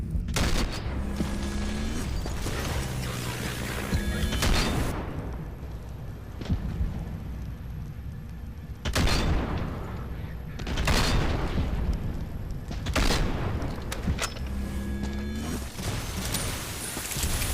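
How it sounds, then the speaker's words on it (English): Rockets fire and explode in Half-Life 2 amid heavy combat, with repeated loud booming blasts and rumbling mechanical noise that come in waves and nearly never let up. "Who is shooting rockets?"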